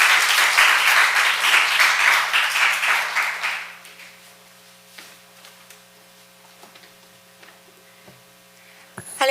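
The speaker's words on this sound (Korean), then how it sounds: "박수로" A church congregation applauds at a Sunday morning worship service, a dense, loud burst of clapping that fades out after a few seconds and leaves a quiet hall with a steady electrical hum.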